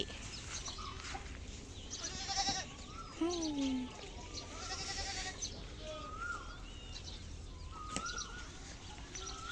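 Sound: goats bleating on a cattle farm

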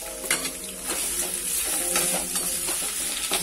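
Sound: ginger frying in coconut oil

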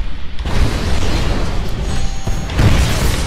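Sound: rocket explosions in Titanfall video game tutorial

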